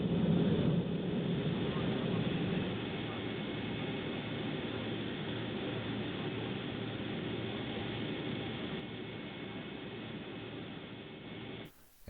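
Simulated MD-80 jet engines idle during descent in X-Plane, giving a steady, muffled broadband rumble and hiss that holds evenly for several seconds before cutting off abruptly.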